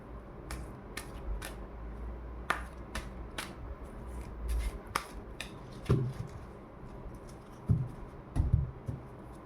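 Tarot cards shuffled by hand during a reading, giving a run of crisp, irregular snapping and riffling clicks with a few heavier soft thumps near the end, moderately close and without talk.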